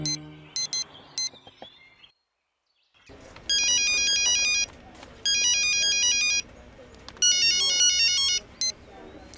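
A telephone in a Hindi comedy film rings in repeated electronic bursts. Bright, closely spaced trills come in three loud groups after a short silence, with a few faint chirps before the gap.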